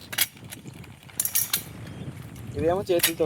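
A multi tree climber device for climbing a palmyra palm gives off close metallic clanks and ratcheting clicks in irregular bursts as it is raised, with a brief voice near the end.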